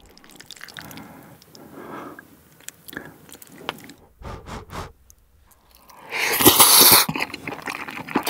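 Someone eats stir-fried pork intestines with vegetables, sausage and noodles under melted Swiss raclette cheese, with close, wet chewing, smacking and soft crunches in irregular bursts, then a louder sizzling or scraping burst near the end.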